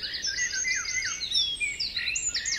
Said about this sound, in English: some birds singing like these.